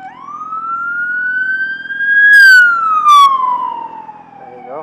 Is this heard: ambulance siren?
yes